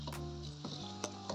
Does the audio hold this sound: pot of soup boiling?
yes